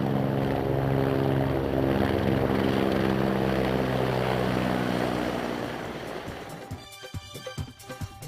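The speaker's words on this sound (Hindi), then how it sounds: "यहीं यात्रियों की मदद के लिए भारतीय सेना का हेलीकॉप्टर सदैव तत्पर रहता है।" An Indian Army helicopter on the Amarnath Yatra route near Sheshnag gives off a loud, steady rotor and engine roar. It fades over the final seconds, and the blade chop becomes more distinct as it moves away.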